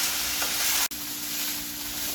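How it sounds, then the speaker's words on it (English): Chicken chow mein sizzles and fries in a pan, a steady, loud hiss broken by one brief clack of a utensil midway, with no talking. "So let's get frying."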